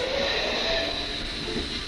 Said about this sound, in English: This scene is a cab ride of an imaginary branch line, passing another train in a station